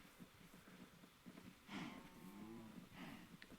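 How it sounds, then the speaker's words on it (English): Cows mooing in the video game Minecraft, a couple of faint low moos rising over a quiet background, with no voices. "We got a whole army of cows."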